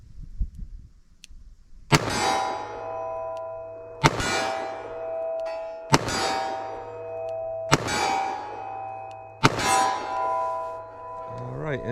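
An S&W Model 69 Combat Magnum revolver fires hand-loaded .44 Magnum rounds in five evenly spaced shots about two seconds apart. Each sharp report is followed by a ringing metallic clang that fades slowly.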